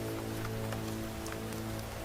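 Rain falls steadily in a broad, even hiss with scattered drop patters, beneath a sustained tonal bed, with no voices.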